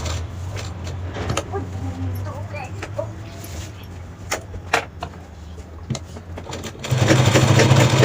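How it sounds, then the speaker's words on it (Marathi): A sewing machine stitches along the edges of a fabric travel bag in short runs with clicks and pauses, then a louder, steady whirring burst at the end, while someone talks over it. "कडेकडेने आपल्याला हे अशी शिलाई करून घ्यायची"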